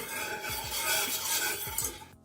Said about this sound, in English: And keep whisking